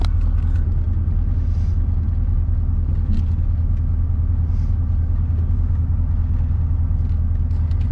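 An LS-swapped 1988 Firebird running, a steady deep rumbling engine note that holds even and loud throughout, with faint clicks above it and no voices.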